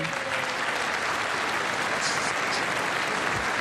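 A chamber audience at the State of the Union address applauds and cheers, a loud, continuous wash of clapping with whoops rising over it, sustained evenly throughout.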